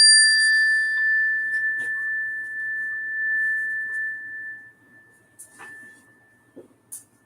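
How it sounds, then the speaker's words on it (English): Meditation chime struck once, a clear sustained metallic tone with overtones that rings close and fades slowly over several seconds, followed by faint small knocks and room noise. "The chime that I use."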